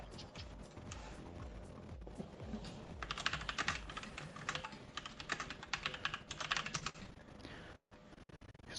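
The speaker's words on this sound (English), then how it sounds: "you can hear my aggressive typing here probably" Fast, hard typing on a computer keyboard comes in dense flurries of sharp clacks, getting louder and busier toward the middle, with a short break near the end.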